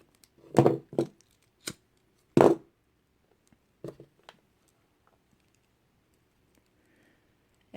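Scissors snip kandi bead thread in a handful of short, crisp cuts with quiet pauses between them, close up in a still room.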